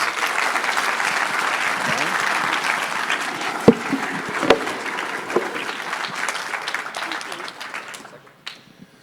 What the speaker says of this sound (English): if we could please just give Ms. Briones a round of applause